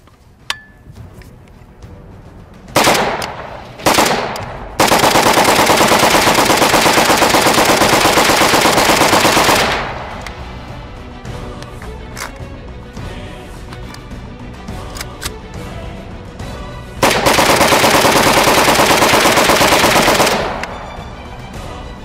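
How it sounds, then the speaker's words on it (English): A Saiga AK74 semi-automatic rifle fires outdoors, a few single shots and then long, loud strings of rapid shots that blur into one continuous roar, twice over. "We're going to run a few more mags through here, shoot up all that paint down there"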